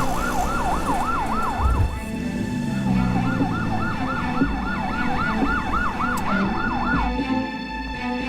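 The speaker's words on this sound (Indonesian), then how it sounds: "Pasti ini ambulans" An ambulance siren wails loudly and close by, its rising and falling tone cycling steadily over a low rumble of road traffic.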